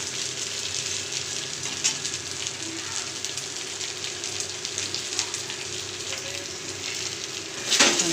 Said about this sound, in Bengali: এটাকে আরেকটু কষিয়ে নিচ্ছি, তাতে জলটা আরেকটু টেনে যাবে